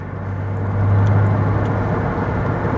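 A 1980s Ford Sierra XR4i's V6 engine gives a steady, close, low drone that swells slightly and then holds even, with no voices.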